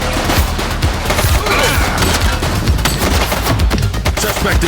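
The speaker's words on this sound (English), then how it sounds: "He's shooting!" Rapid bursts of gunfire from a suspect in The Precinct video game, a loud, dense volley of shots and impacts running steadily through the whole stretch without pause.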